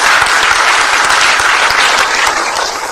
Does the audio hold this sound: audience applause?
yes